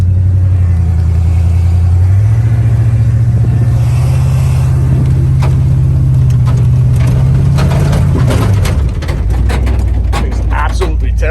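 An old parts truck fitted with a Cherry Bomb muffler, with a loud, close engine drone that climbs in pitch and holds as it drives, then drops off near the end amid rattles and knocks, with talking over it.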